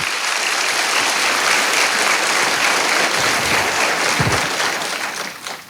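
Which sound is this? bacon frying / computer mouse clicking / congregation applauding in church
congregation applauding in church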